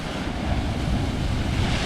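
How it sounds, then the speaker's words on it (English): Waves rolling in and breaking against rocks along the Cinque Terre coast near Monterosso, a steady close wash of surf mixed with gusty wind buffeting. "There are some massive waves coming."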